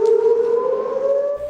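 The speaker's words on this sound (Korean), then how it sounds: "잇따르는 신고에도 울리지 않았던 사이렌은 3년 만에야 울려 퍼집니다" A memorial siren sounds across Gwanghwamun Square in Seoul at 10:29, honoring the Itaewon disaster victims: one loud, steady, sustained tone that holds unbroken, with no voices over it.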